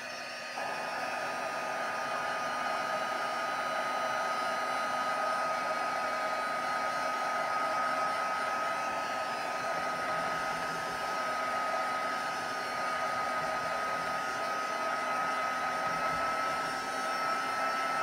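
A hair dryer blows steadily and loudly on a handmade greeting card during a card-making session, a continuous close airy roar that runs unbroken for the whole span with no talking.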